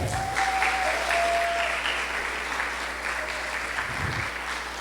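A church congregation claps steadily and loudly, a full continuous roar of applause that eases slightly toward the end.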